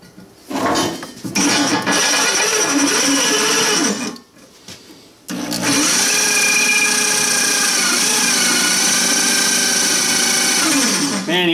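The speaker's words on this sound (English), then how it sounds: "you don't realize how nice it is having the drill press." Drill press boring a hole for a removable tooth plate: a sustained loud motor whine with the bit cutting, a brief pause near the middle, then a long steady run, close up.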